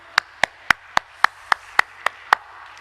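A church congregation at a prayer-house revival meeting claps in unison to welcome the preacher, nine sharp, evenly spaced claps in a steady rhythm, loud and close with no voices.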